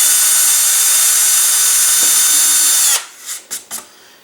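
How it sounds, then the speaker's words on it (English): A power drill bores a vent hole through a cardboard body tube for an upscaled Estes Ninja high power rocket. It gives a loud, steady whine for about three seconds, then stops, followed by a few short handling knocks. "So I'll just drill the hole here."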